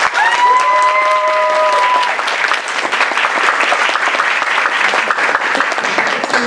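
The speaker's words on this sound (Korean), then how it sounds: "여러분 박수!" A large audience at a career talk concert applauds loudly and steadily, the dense clapping filling the whole stretch, with a short musical tone sounding near the start.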